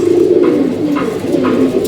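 Pigeons coo steadily in low, throaty rolling calls, close by and continuous, with faint rustling and soft background noise.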